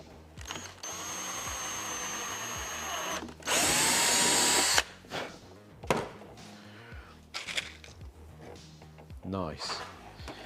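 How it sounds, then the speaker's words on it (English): Power drill boring a marked hole through a TIE pilot helmet, a loud sustained high whine in two bursts, the second harsher as the bit cuts through, followed by clicks and handling noises. "So I'm going to drill that."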